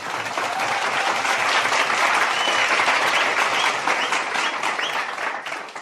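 An audience at an election meeting bursts into applause, a dense, loud wash of clapping that holds steady throughout.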